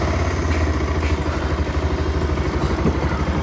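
A Bajaj Pulsar 220F BS6 motorcycle engine idles steadily just after ignition, with a close, continuous low throb and light mechanical clatter running evenly throughout.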